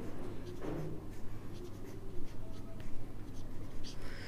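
Pen or chalk writing out accounting entries on paper or a board, a soft scratchy stroke that runs steadily under low room noise, with a brief faint voice early on.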